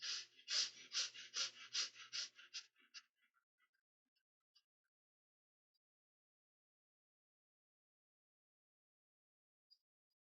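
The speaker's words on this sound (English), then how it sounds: "Quick and short breaths from both the nostrils into the rib cage" Quick, short breaths drawn through both nostrils into the chest during a breathing exercise, a rapid rhythmic run of about ten sharp sniffs, then tapering into faint isolated breaths and near silence.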